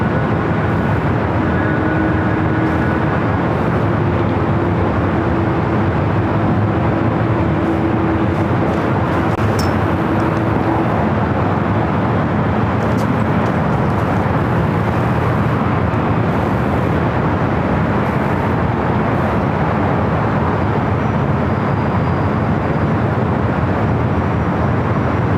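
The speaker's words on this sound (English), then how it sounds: "A350-1000 is our next arrival." An Airbus A350-1000 comes in to land at LAX, its loud, broad jet roar staying heavy and steady all the way through.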